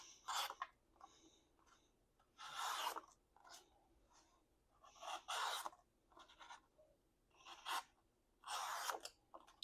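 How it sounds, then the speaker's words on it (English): Small Vosteed Mini Nightshade pocket knife slicing through thick paper: a series of short dry rasping cuts, about six strokes in ten seconds, close and fairly quiet with pauses between them and no talking. "Let's see if it'll cut through some thicker paper."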